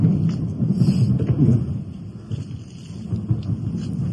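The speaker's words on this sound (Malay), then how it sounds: "Cuaca hujan ya." Steady rain at a jetty in Port Klang, Malaysia, with low rumbling, like a storm soaking the surroundings, continuous and fairly loud with no voices.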